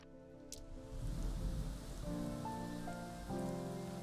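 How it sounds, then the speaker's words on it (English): Rain falling in the Prehistoric Kingdom zoo video game, a steady hiss of rain on surfaces mixed with faint tonal game music, fairly quiet and continuous. "Oh yeah, the rain really kicks butt."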